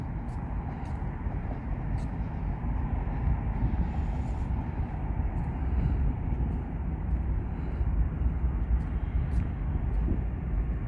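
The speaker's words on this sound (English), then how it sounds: "I think that was like the 6th plane that landed since I've been here" Airplane landing at Las Vegas airport, a continuous low jet roar at moderate distance, steady with slight swells, alongside a few faint sharp clicks.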